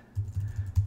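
A quick run of close keystrokes on a computer keyboard as a terminal command is typed, about five soft, fairly even taps in under a second, with no voices.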